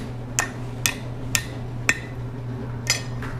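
A hammer strikes a hot steel bar for chain links on the horn of a blacksmith's anvil: six sharp, ringing metallic blows at an uneven pace, close and distinct over a low steady hum.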